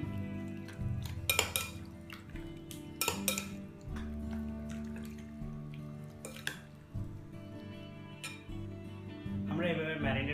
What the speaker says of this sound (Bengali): উপকরণগুলো দিয়ে আমরা ভালো করে মিক্স করব বা ম্যারিনেট করব।